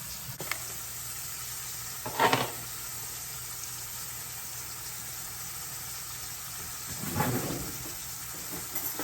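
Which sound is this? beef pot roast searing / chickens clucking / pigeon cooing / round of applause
beef pot roast searing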